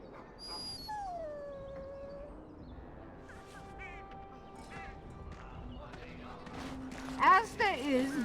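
A dog in the fantasy role-playing game Dragon Age Origins lets out drawn-out howls and whines, with tonal calls rising and falling, game sounds and effects around it, and a burst of louder yelps near the end.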